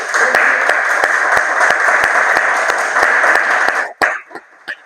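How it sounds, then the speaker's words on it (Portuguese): A church congregation claps together at an evangelical prayer gathering, a dense, loud wash of applause with sharp rhythmic beats running steadily before breaking off abruptly into a few scattered claps near the end. "Vamos aplaudir o Senhor?"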